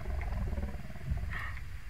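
A Carnotaurus roar from the dinosaur survival game The Isle, a low, rumbling growl heard at a distance and fairly faint, with a brief higher call near the end.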